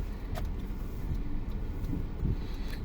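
A car pulling away at a driving test area in Üsküdar, a low steady engine rumble with faint clicks and rustles, close and fairly quiet throughout.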